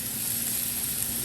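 Chicken sears in a preheated pan with a little oil, giving a steady, close, bright sizzle and crackle with no voices.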